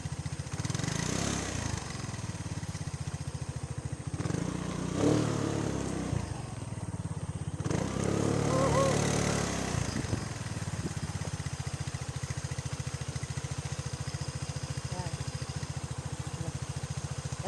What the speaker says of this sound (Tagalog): Tingnan natin kung kaya ng motor.